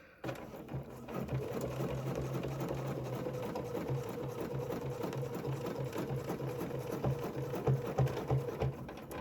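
Close, continuous machine stitching across a quilted placemat, a rapid buzzing needle rhythm that starts after a brief pause and runs steadily with slight speed changes.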